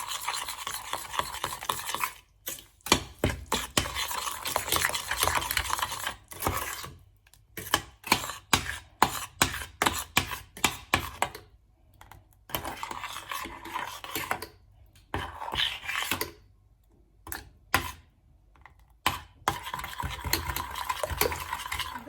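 A spoon stirs and scrapes through mango pulp cooking with sugar in a pot for homemade mango ice cream, in rhythmic, close strokes broken by short pauses.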